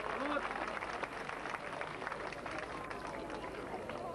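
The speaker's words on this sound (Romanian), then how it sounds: "Să-i aplaudăm, vă rugăm frumos!" Crowd applauding at an outdoor folk festival opening, a steady wash of many hands clapping at moderate distance, with a voice speaking faintly underneath.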